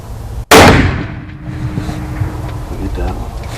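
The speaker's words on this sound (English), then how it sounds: "We need to shoot another one" A single sharp rifle shot cracks out loud and close during a deer hunt, its echo rolling away over a steady low outdoor hum, with faint voices nearby.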